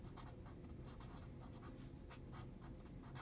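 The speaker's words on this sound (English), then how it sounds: "I'll write that down." Pen strokes on paper while writing down notes in a math lesson, a quiet, close, continuous scratching with rapid short strokes and brief pauses between letters.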